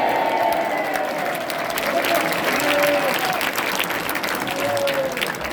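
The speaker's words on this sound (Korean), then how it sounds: "장경로 목사님께 감사의 박수를 보내주시기 바랍니다" A church audience applauds a pastor with sustained, steady clapping that fills the room, and a voice can be heard speaking over it.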